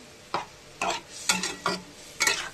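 A Bengali fish curry with mustard being stirred in a pan, five distinct spatula scrapes spaced apart over a low simmering sizzle, close up with no voices.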